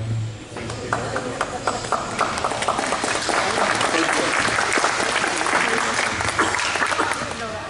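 An audience applauds a high-time SR-71 pilot as he takes the stage for a talk, a dense, continuous wash of clapping from a room of people, with voices audible beneath it.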